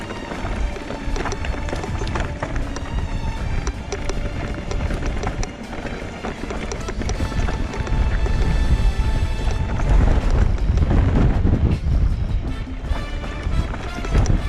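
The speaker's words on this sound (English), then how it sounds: "the bloody wind's strong" Strong wind roars and buffets steadily around a rider mountain biking on the Brecon Gap route in open hills, loud and close throughout with rumbling gusts and no clear talk.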